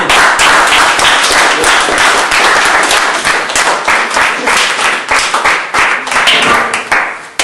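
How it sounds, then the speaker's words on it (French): Sustained applause from a crowd, dense steady clapping filling the whole stretch with no talk over it. "On peut l'applaudir, franchement. On applaudit."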